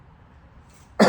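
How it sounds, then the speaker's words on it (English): A single short, harsh cough right at the end, close and fairly loud after near silence. "this cough just won't go away"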